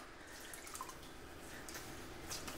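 Water trickles and drips steadily from a small towel being squeezed out at bath time, a close, continuous splashing patter with no pauses.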